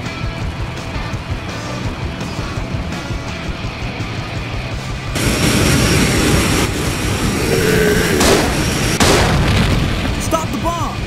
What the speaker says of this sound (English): Stop the bombs!